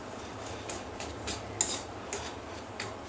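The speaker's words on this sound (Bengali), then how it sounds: "এখন আমি এটাকে ভালো করে মেখে নেব।" A spoon scrapes and taps in a bowl while egg devil filling is mixed with spices, giving soft, irregular clinks over a quiet background with no talk.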